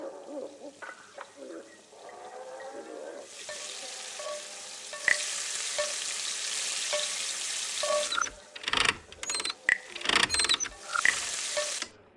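Restaurant kitchen ambience in the Frequency Missing video game: steady sizzling like frying with clinking metal pots and pans, mechanical ratcheting clicks, and a burst of sharp clattering near the end, no speech.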